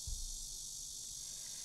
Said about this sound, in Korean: 매미 소리는 울음대어 공중을 가릅니다